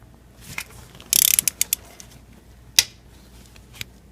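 A ratchet on a Mercedes ML pulley bolt gives a quick burst of clicking, a few single clicks, then a sharp crack as the bolt breaks loose, close up in a quiet garage.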